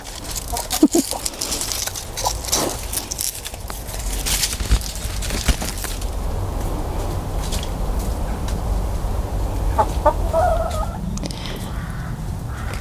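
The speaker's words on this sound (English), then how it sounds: "old Mrs. Broody here thinks she's going to make another little nest in there" Hens in a polytunnel give scattered clucks and gobble-like calls over steady rustling background noise, with a brief louder cluster near the end; one voice speaks briefly.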